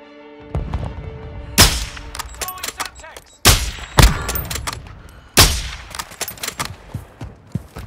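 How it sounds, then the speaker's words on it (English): A stun grenade goes off during a Warzone 2 gunfight: sharp, loud bangs and crackling gunfire, with three heavy blasts spaced a couple of seconds apart. "Throwing a stun grenade!"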